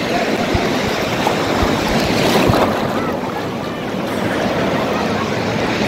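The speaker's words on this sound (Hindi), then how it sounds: "इतनी बड़ी लहर है। ये लहर आ रही है बहुत बड़ी।" Sea waves surge and crash continuously on Digha beach, a broad rushing roar with wind noise over the microphone.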